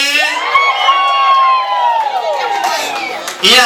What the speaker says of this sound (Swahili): hebu nisikie vigelegele